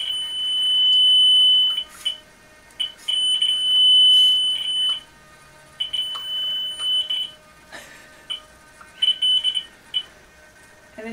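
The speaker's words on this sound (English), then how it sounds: "when he tilts, he will scream really loudly. He'll beep." The small noodleFeet robot lets out loud, shrill electronic beeps when tilted, some long and sustained and others short and repeated, broken by brief pauses and a few faint clicks and bumps.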